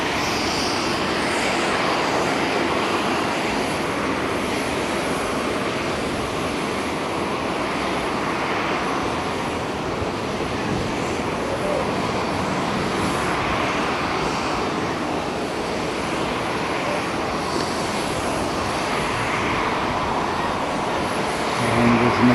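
An Airbus A350-900 airliner taxis at Haneda airport toward its takeoff point, its engines giving a loud, steady, continuous roar throughout.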